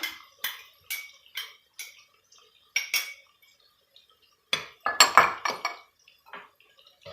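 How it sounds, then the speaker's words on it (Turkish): Tomato paste is stirred and sautéed with onions and garlic in a pan, heard as a close series of quick metallic scrapes and clinks of a spoon against cookware, irregular and bursty with short gaps, a denser cluster near the end, no talk. "Bunları da karıştırıyorum, kavuruyorum."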